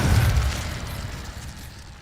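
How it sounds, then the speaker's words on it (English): A fire spell cast in Hogwarts Legacy, heard as a short heavy whoosh-boom that bursts loud at once and then fades into a low rumbling crackle over about two seconds. "Incendio!"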